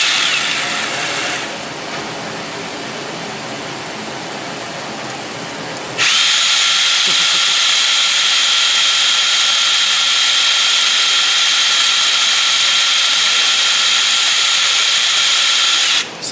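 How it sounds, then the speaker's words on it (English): A power drill spins a small model steam engine to wear it in, a loud, steady high-pitched whir that steps up in speed partway through and holds constant, with no voices. "turn the engine over with a drill or something, and just idle it for about 5 minutes"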